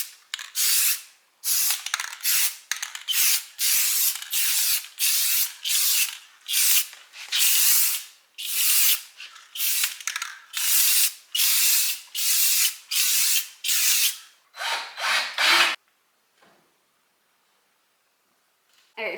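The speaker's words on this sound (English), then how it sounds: "I'm gonna go in with this satin clear spray" A satin clear top coat spray can hisses in a long series of short bursts over a cabinet, each spray separated by brief pauses, close and loud, then it stops and near silence follows.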